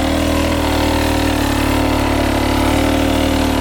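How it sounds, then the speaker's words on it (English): A motorcycle engine at a riding clinic holds a steady, loud, close drone at low throttle as the bike eases into motion, with no speech over it. "Once I start moving, I chop just a little less throttle."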